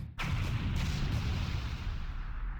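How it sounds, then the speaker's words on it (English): A loud explosion in the Blue Archive video game bursts out abruptly, then a dense roaring rumble with scattered blasts carries on steadily without pause, heavy and close, with no voices. "An explosion? Where'd that come from?"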